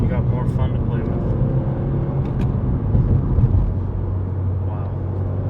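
A 2017 Subaru WRX under way, its steady low engine and road rumble continuing throughout at close range, with a slight swell midway; a voice talks over the drone.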